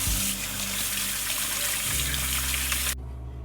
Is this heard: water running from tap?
yes